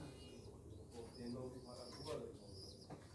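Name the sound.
pigeons cooing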